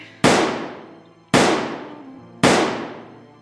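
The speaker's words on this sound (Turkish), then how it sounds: "Birden üçe silah sesi." Three sharp gunshots ring out about a second apart, each loud crack trailing off in a long echoing decay, with no voices.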